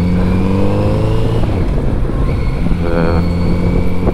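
A Kawasaki Z900RS four-cylinder motorcycle riding on a wet road, its steady engine drone loud and close throughout under heavy wind rush, with a brief rise in pitch near the end.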